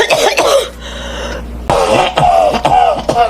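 A woman with tuberculosis coughs repeatedly in a kitchen, with several harsh, close bursts and throat-clearing spaced over a few seconds.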